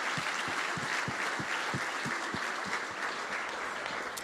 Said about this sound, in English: give a big round of applause for those 3 players